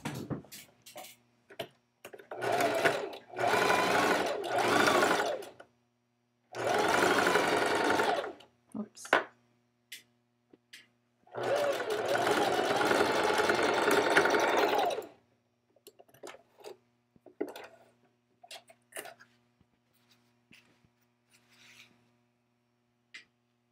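A sewing machine stitches garment seams in several loud close bursts of rapid whirring, with short gaps of quiet handling clicks and fabric shuffling between runs.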